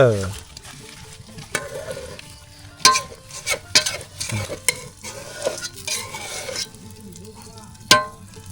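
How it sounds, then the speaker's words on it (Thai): Eggs frying in oil in a pot, a steady sizzle with utensils clinking and stirring against the metal, close up while people talk over the cooking. "ทอดไข่ใส่หม้อเคยเห็นบ่พี่น้อง"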